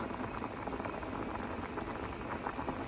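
Ham and potato soup bubbles and pops at a rolling boil in a pot, a continuous dense simmering hiss close by with no voices.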